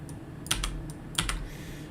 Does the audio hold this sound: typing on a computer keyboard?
yes